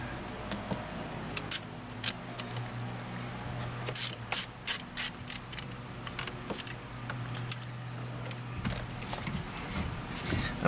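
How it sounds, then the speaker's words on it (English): A ratchet drives Torx screws back in during a Honda Accord horn and airbag repair, with close, repeated bursts of metallic pawl clicks over a steady background hum. "So we'll get the screws put back in it."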